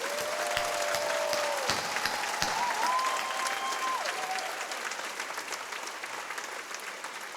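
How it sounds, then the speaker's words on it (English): An audience at a medical school white coat ceremony breaks into applause, a full wash of clapping with a few crisp nearby claps early on, gradually thinning and softening toward the end. "Now we can applaud."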